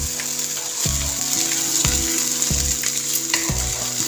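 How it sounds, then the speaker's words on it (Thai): Chili peppers stir-fry in a hot pan for a Thai stir-fried mussel dish, giving a steady loud hiss with a low rhythmic scrape of the utensil about once a second. "ผัดพริกเลยนะคะทุกคนจ้าผัดพริกหอมๆแล้วเนาะ"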